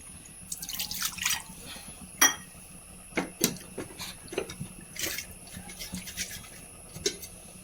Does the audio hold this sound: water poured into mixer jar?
yes